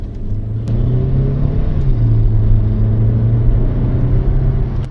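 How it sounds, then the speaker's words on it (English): Hyundai Alcazar SUV engine revving in sport mode, a steady low grunting drone that swells and holds loud and close throughout, with no talk over it. "the engine grunts a lot in the sports mode when you're pushing the car a little hard"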